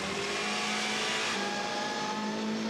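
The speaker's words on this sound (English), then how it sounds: "That Seat has got very good punch out of the corners." A Seat touring race car with a strong mid-range engine powers out of a corner during a 2013 WTCC race in Slovakia, its engine note droning loud and steady with a slight upward pitch change partway through.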